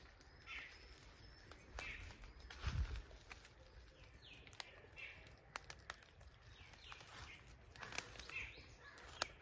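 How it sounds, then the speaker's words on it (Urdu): Birds sing and chirp faintly in a planted forest in Kashmir, scattered calls over a quiet outdoor background with a few soft footstep-like rustles and thumps. "خوشی کی بات یہ ہے کہ یہاں پر پرندے بہت زیادہ رہ رہے ہیں۔"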